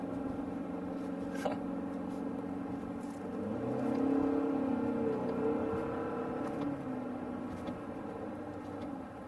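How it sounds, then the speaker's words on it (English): Mazda CX-50 with eCVT in sport mode driving over rough ground, a steady engine drone that swells into a louder, rising rev around the middle and eases back, with no talk. "Now with this eCVT, you can pop this into a sport mode and shift."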